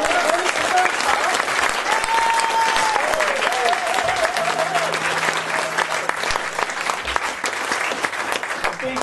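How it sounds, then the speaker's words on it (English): Steady, continuous applause from an audience at a live folk concert in Manley, filling the room without pause, with a faint sustained tone running beneath the clapping partway through. "a big round of applause for Chris on the fiddle"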